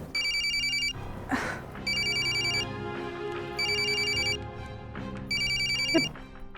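A telephone rings in repeated bursts, each electronic trill lasting about a second with short gaps, loud and close, over a steady background hum.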